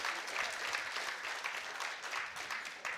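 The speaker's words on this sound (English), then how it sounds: "Give him a round of applause for that." Audience applause at a live Marquette fan show in the Motor Bar and Restaurant at the Harley-Davidson Museum, a steady wash of clapping from a crowd lasting the full three seconds with no speech over it.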